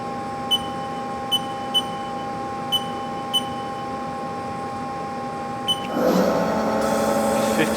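A Haas SL-10 CNC turning center spindle runs at 1500 RPM, a steady quiet machine hum with faint periodic beeps, then a louder broadband burst near the end.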